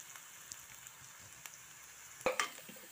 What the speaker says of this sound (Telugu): ఉల్లిపాయ ముక్కలు వేగిపోయినాయండి